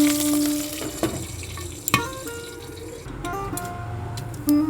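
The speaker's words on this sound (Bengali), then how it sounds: "ভালো করে এটা কারিপাতা, সর্ষে, শুকনো লঙ্কাটা ভেজে নেব।" Curry leaves, mustard seeds and dried chillies fry in hot oil with a steady, close sizzle, broken by a few sharp clinks and spatters as the tempering crackles.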